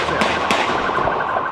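Sharp gunshots ring out as police fire on a fleeing car, two distinct bangs close together and then quieter pops, against a noisy outdoor background.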